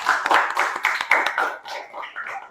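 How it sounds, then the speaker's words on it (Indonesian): A classroom of students claps hands together for several seconds, a dense burst of claps that thins out toward the end. "Tepuk tangan dulu untuk kita semua."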